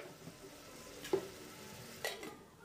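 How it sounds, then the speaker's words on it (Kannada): Ingredients fry in oil in a pan for ghee rice, with a steady soft sizzle broken by two sharp scrapes of a spoon stirring against the metal. "ಇದನ್ನು ಆಯಿಲಲ್ಲಿ ಫ್ರೈ ಮಾಡ್ಕೊಳ್ಳಿ"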